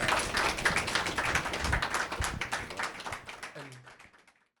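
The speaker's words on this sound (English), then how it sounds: "Please, big round of applause." Audience applause at an anniversary Q&A event, a dense burst of clapping that holds steady and then thins out and fades away over a few seconds, with a voice faintly underneath.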